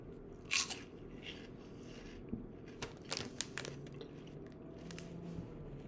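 Crisp, crackly crunches of hot and spicy fried pork rinds being bitten and chewed, a loud bite first, then scattered quieter crunches close up.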